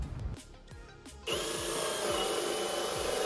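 A hole saw cuts into a true 2x6 wooden stud, starting with a few light knocks and then settling into a steady, loud grinding whine that continues to the end.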